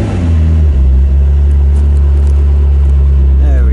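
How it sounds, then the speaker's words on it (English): A McLaren 12C Spider Gemballa engine starting and idling loud and close, its low rumble steady, then a rising rev near the end. "press the engine start button."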